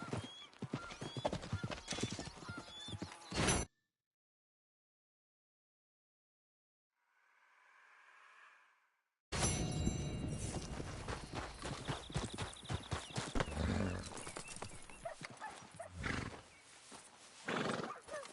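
Horse hooves clip-clop steadily through an open-world Western video game on PS4, with a whinny from the horse, loud and close, broken by a few seconds of near silence and a faint murmur before the hoofbeats resume.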